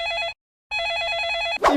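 A telephone rings close by in a home setting: two bright, warbling electronic ring bursts separated by a short gap, followed by a brief rustling noise.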